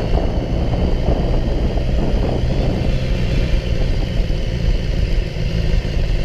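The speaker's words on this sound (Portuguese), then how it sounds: "Estamos saindo para mais uma volta aqui de moto." Continuous loud engine roar and wind rush of a BMW S1000 XR motorcycle on the move, steady throughout with no voices.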